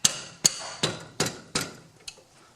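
A socket wrench working on a brake caliper bolt on a Pontiac Vibe / Toyota Matrix front brake, heard as six sharp metallic clicks at an even, steady rhythm, close by and loud, each click fading quickly, with no talking.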